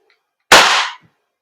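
A single sharp gas blowback shot from an Armorer Works HX2401 airsoft pistol: a loud, close crack with a brief hissing tail lasting about half a second, then silence.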